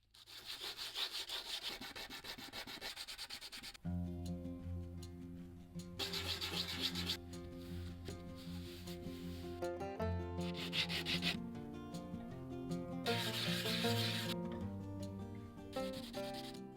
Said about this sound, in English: I'll be using 120 grit sandpaper to shape it.